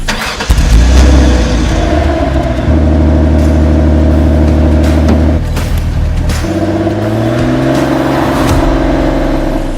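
A Porsche 911 Carrera RS 3.8 flat-six in the Need for Speed Porsche Unleashed video game starts up and then idles and revs in steady bursts, loud and close, with a shift in pitch partway through.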